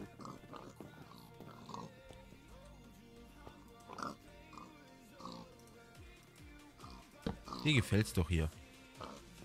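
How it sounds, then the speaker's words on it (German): A pig in Minecraft: Sky Factory 4 grunts and oinks in a short cluster near the end, fairly close and louder than the rest, after someone talks quietly over soft game sounds. "Ein Schweinchen."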